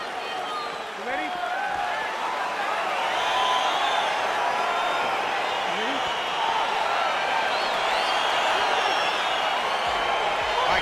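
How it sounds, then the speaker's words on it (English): Arena crowd noise from the UFC 4 video game, a steady loud roar of cheering and shouting that swells as the fight gets underway, continuing throughout with commentary talk over it. "Crowd getting excited as this fight gets underway"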